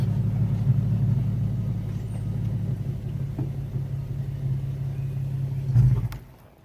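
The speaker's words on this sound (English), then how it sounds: "give it a rev." A V6 car engine rumbles deep and close, swelling briefly in a short rev before the sound cuts away.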